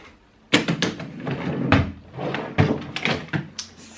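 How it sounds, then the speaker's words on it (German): A household drawer shuts with several sharp knocks and rattles in a quick burst of handling noise, close and fairly loud, with no voices. "das war diese Schublade."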